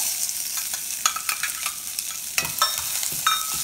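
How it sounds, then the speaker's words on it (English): Onion and curry leaves sauté in a hot pan, with a steady close sizzle broken by several sharp clinks and scrapes as a spoon stirs. "I'm going to saute it for like 2-3 minutes until the onion is glassy"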